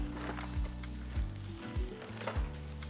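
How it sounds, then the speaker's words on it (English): Bacon frying in a frying pan on a stovetop for breakfast burritos, giving a steady close sizzle with a few brief louder bursts and low thumps as the pan or strips are moved; no talking. "You can do this on the stove in a frying pan."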